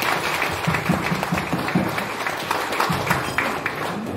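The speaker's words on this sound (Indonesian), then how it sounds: "mari kita beri aplaus tepuk tangan yang meriah buat Pak Suherman" An audience applauds Pak Suherman at a corporate talk, a moderate, steady patter of clapping sustained throughout at mid distance.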